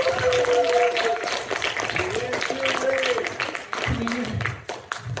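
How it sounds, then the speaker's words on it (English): An audience at a comedy show applauds in a sustained wash of clapping, with a person's voice talking and calling out over it throughout. "Give yourselves a round of applause."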